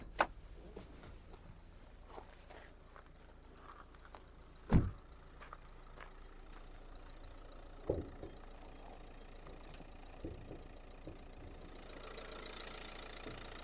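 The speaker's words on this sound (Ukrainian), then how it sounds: "Робота двигуна. Двигун працює гарно" A Renault Megane engine idling under the hood, a low steady running hum with a few sharp knocks and clunks along the way and a brief louder hiss near the end.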